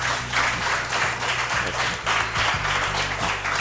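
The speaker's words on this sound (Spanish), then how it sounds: "os pido un aplauso para él, para ellos." Steady audience applause from a crowd in La Gomera, a dense wash of clapping with some rhythmic, near-unison claps, continuous and fairly loud throughout.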